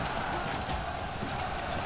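Steady rain falls in the medieval strategy game Manor Lords, a soft even hiss of drops that stays constant and fairly quiet throughout.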